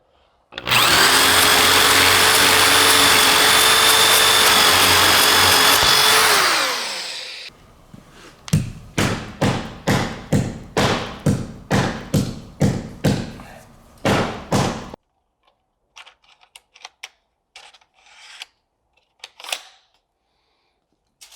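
Hilti powder-actuated or battery tool firing fasteners through foamboard into a concrete foundation block: a long loud whirring burst, then a rapid run of about a dozen sharp, evenly spaced bangs, followed by scattered fainter clicks and knocks.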